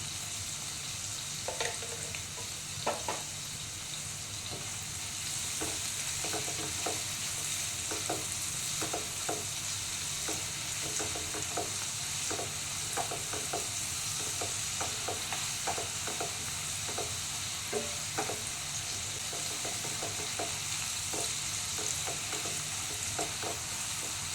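Chowmein stir-fried in a hot pan makes a steady, dense sizzle for a long stretch, broken by frequent light scrapes and taps of a spatula, close and continuous with no voices.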